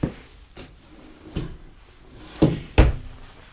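A drawer on full-extension ball-bearing guides slides open and shut several times in a park model RV, giving soft rolling runs and sharper knocks at the stops, quiet and close.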